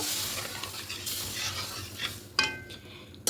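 A spoon stirs boiled mung dal in a pan with soft, continuous wet scraping and sloshing, ending with a couple of sharper clinks against the pan.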